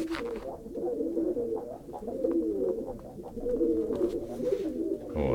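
Domestic pigeons cooing in a breeder's loft, where a hen sits on eggs in a nest, a close and continuous throaty rolling coo with overlapping calls throughout and no talking.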